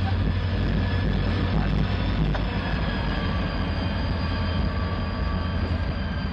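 An ex-Conrail GP38-2 diesel locomotive in Norfolk Southern Lifesaver heritage paint works a rail yard at Binghamton, giving a continuous loud, deep engine rumble with steady tonal drone throughout.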